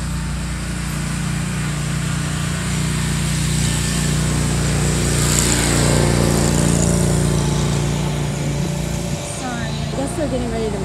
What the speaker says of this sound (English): I guess they're getting ready to mow. And the mowers have been driving all around me.